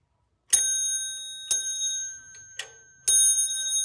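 A cup-shaped bowl bell is struck four times at uneven intervals, each strike a bright metallic ring with sustained high overtones that decay slowly, close and alone.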